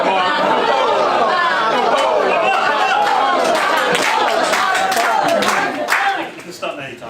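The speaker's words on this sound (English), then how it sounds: "If we can all chant, Marco Polo! Marco Polo! Marco Polo!" Wedding guests in a reception hall chant "Marco Polo" together, a loud, sustained crowd noise of overlapping voices with scattered claps and cheers that fades near the end.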